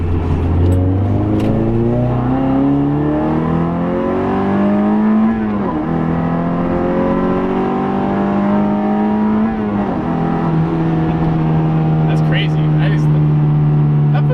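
An Ecotec-swapped Mazda Miata making about 160 wheel horsepower accelerates hard, its engine note climbing steadily through the revs, dropping at each gear change, then rising again, loud and close from inside the car with occupants talking over it.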